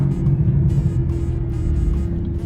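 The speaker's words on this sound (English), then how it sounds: "know how Bentley was able to make a V8 engine sound like a fighter plane from World War II." Bentley Continental GT Speed V8 on the road, a loud continuous deep rumble with a steady low tone, close and unbroken.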